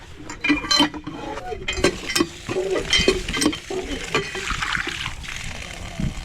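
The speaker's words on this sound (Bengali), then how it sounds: "এদের এখানে টিউবওয়েলও রয়েছে একটা।" Water pumped from a hand tubewell at a mosque on a char island in Gaibandha splashes in repeated bursts close by, with people talking over it.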